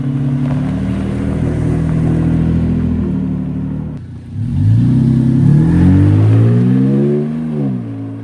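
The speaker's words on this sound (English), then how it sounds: "The rough country makes a great stainless exhaust system. It's got a deep mellow tone." A Toyota Tacoma fitted with a Rough Country stainless catback exhaust drives past with a deep, mellow engine note, revving and climbing through gears, loud and close, with a brief dip in the middle.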